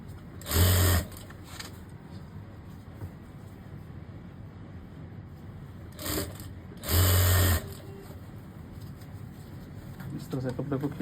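Sewing machine stitching fabric with elastic while a pant or palazzo is sewn, two short loud whirring bursts with quiet stretches between, and someone talking over the pauses.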